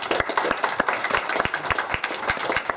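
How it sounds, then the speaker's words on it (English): Audience applause at a London DevOps meetup talk on Kubernetes at Funding Circle: a room of people clapping steadily and fairly close, a dense patter of many hands with a few sharp individual claps standing out, no talking over it. "So big round of applause again to Mark."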